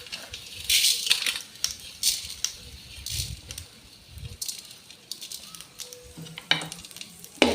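Chopped ginger frying in a pan, heard as intermittent bursts of crackling sizzle mixed with the clatter of a spoon stirring against the metal, moderately close and fairly quiet.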